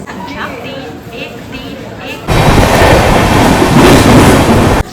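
A loud Humsafar Express passenger train rumbles past nearby, with dense rushing clatter that starts suddenly and holds steady; faint voices are heard before it.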